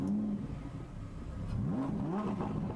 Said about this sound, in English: that is not just the sound of a luxury Lamborghini's engine revving